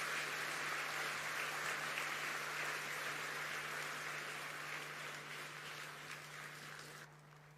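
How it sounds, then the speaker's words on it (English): Steady, dense applause from a large audience at the Africa Climate Summit at KICC in Nairobi, filling the hall for several seconds and fading slightly before stopping abruptly near the end. "One more round of applause to all the speakers who have spoken so well."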